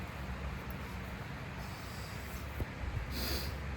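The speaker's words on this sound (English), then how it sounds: "You gotta blow your nose sometimes." A nose is blown close by, a wet, snorting rush of air over a steady low rumble, ending in a sharper hissy burst.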